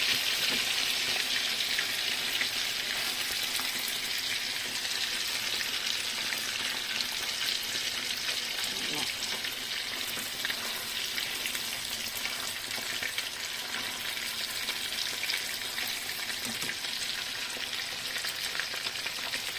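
Pork chops fry in hot oil with a loud, steady crackling sizzle that carries on unbroken up close, and a few faint scrapes now and then.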